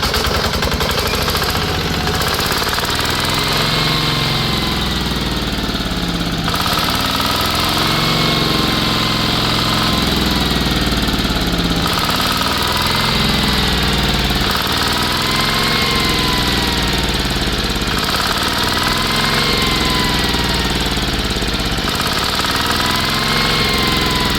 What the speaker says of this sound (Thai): เสียงเครื่องนะครับ